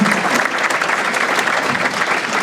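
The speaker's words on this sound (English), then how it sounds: "Give Bassam a round of applause." Audience applauding the owner of the Phoenician restaurant at a chamber of commerce annual dinner: a steady, dense wash of clapping from a large room, even in loudness throughout with no voices.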